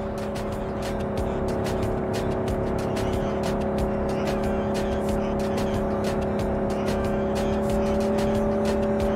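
A car driven through the streets in the Cyberpunk video game on Xbox Series, its engine a steady tonal drone held close and loud across the whole stretch, with repeated sharp ticks and clatters riding over it and no talk.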